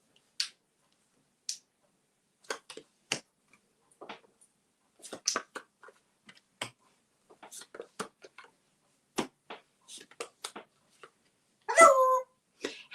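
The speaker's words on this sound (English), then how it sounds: "Now my dogs are going to bark." Dogs make sparse, scattered short sounds, brief whimpers and yelps with quiet gaps between them, ending in a louder bark-like burst near the close.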